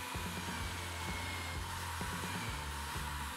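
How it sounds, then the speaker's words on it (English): Power drill boring a centred hole with a bit through a homemade band saw wheel, a steady close whirring hum with slight periodic dips as the bit bites. "I also bore a hole in the center with a bit the same size as the calibrated rod."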